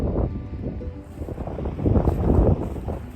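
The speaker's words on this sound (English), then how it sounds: "If you can hear me, screw the wind." Strong wind buffets a microphone outdoors in southern Alberta near a dam, a continuous low rumbling roar that swells louder toward the end, with no voices.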